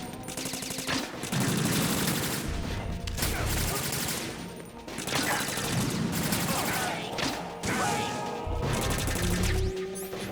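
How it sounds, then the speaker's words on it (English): Stun grenades and gunfire in the Metal Gear Solid 2: Sons of Liberty video game, loud bursts of crashing, rattling fire that repeat through the clip in dense waves with brief dips between. "Oh, stun grenades."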